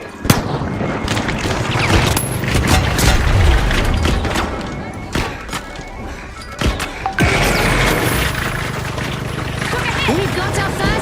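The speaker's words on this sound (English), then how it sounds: "Using a flashbang." A flashbang grenade goes off in the video game The Finals, with sharp bangs and crashes punching through dense game action and a speaking voice.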